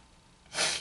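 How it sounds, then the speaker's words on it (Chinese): A single short breathy burst like a sneeze, linked to a large seaside statue on the coast at Qidong as cold wind blows into its open mouth; it bursts out near and fairly loud after a quiet lead-in. "咳嗽啊，打喷嚏"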